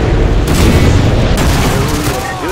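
Direct-hit explosion in Modern Warfare 2 (2009), a loud, sustained booming roar with deep rumble and crackling debris that slowly fades.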